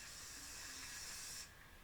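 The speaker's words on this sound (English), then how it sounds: "I'm going to be using some Loctite spray adhesive" Loctite spray adhesive hisses from an aerosol can in one steady burst of about a second and a half inside a box, soft and close, then stops.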